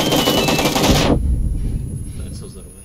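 Rapid machine gun burst in PUBG, loud dense automatic fire for about a second that cuts off abruptly, leaving a quiet tail.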